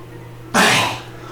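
A voice imitates a creature coughing, one sudden breathy hacking burst that fades out over about half a second, close and fairly loud against a quiet room.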